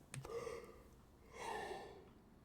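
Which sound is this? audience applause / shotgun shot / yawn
yawn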